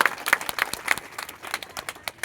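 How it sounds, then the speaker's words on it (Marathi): A crowd applauds at a credit society inauguration, a burst of dense, loud clapping with sharp overlapping hand claps close by. "तर आधी सगळ्यांनी स्वतःसाठी टाळ्या वाजवा जोरदार"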